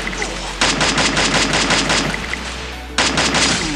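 Rapid automatic M4A1 rifle fire in the Free Fire battle royale game, two loud sustained bursts of dense rattling shots separated by a brief lull, close and dominant with no talk.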